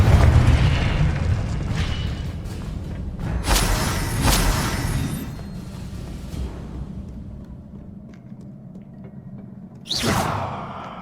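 Confringo blasting spells explode in Hogwarts Legacy: heavy booms with whooshing bursts in the opening seconds, a rumbling decay, then one more loud sharp blast near the end.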